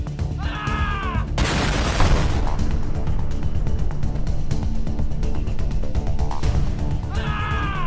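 A loud detonation explosion in a video game erupts after a brief musical phrase, a sharp broadband blast followed by several seconds of dense rumbling debris and crackle, with the melody returning at the end.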